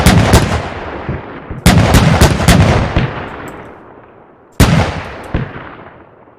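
German 3.7 cm Flak 37 anti-aircraft gun firing in the Arma 3 WW2 mod, loud booming shots in quick bursts of several rounds, then a pause and another short burst, each blast trailing into a long echoing decay.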